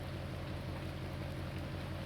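Steady rain pours down at night in a farming roleplay video game, a uniform, even hiss with no breaks or voices.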